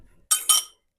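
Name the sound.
muffin pan being put into the oven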